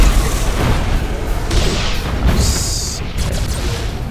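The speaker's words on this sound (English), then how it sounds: "Nova cannon." Nova cannon fire from a warship in Battlefleet Gothic Armada: a loud, dense booming roar with heavy low rumble, sustained throughout, with brief higher crackling bursts layered on top.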